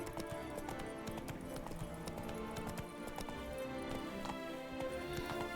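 Roach, the horse in The Witcher 3: Wild Hunt Enhanced Edition video game, clops along in a quick steady rhythm of hoofbeats close by, with music and game sound underneath and no talk.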